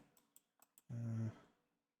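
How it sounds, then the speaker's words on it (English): Someone hammers hard on a computer keyboard, four sharp, separate clacks followed by a louder, longer thudding burst that fades out, heard close and without speech. "Is somebody beating up their keyboard?"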